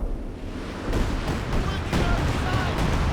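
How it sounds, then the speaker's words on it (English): A howitzer artillery barrage in the video game Company of Heroes 2 during a 2v2 match, with several heavy booming impacts over a dense battle rumble and a commentator talking. "The howitzer barrage coming through from VnBros"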